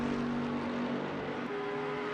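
A BMW race car at Kyalami in a console racing game, its engine a steady, droning whine with a pitch shift partway through, heard close and alone.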